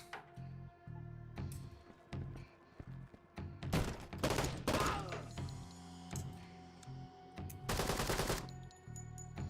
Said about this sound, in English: Shots from inside this room